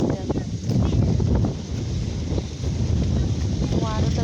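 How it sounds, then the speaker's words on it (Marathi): Strong wind blowing across an open village field in late May, a loud continuous rushing roar buffeting the microphone, with faint sounds in the background. "गावाकडे खूपच वारं सुटतं कारण मेच्या शेवट शेवट खूप वारं असतं"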